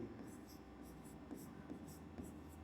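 Writing on a board during a class 10 maths lesson on real numbers, heard as faint, rhythmic scratchy strokes close by, with a quiet voice in the background.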